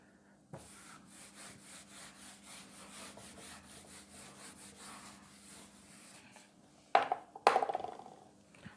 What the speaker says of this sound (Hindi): मैं ये रब कर दे रहा हूँ